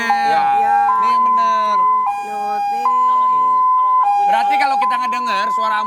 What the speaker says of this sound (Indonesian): dengar suara ambulan ini berarti ini ambulan dalam keadaan emergency